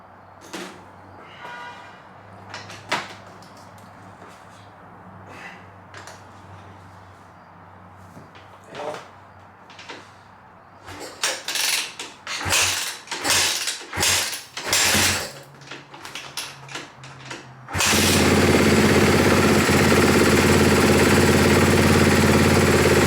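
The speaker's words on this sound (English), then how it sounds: "Now we should be able to do a quick test hit and see if it runs." A 2013 Kawasaki KX250F dirt bike being kicked over with a few mechanical clunks, then catching and running at a loud, steady roar close by.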